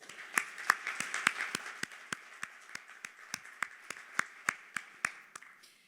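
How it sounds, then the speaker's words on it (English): Department of Housing and Urban Development employees clap at their agency's golden anniversary gathering: a slow, evenly spaced run of about twenty sharp, fairly close hand claps, fading slightly toward the end. "So give yourselves a round of applause."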